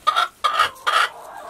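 Three short, nasal clucks from a nearby chicken in Alaska in quick succession, with a faint fourth trailing off at the end.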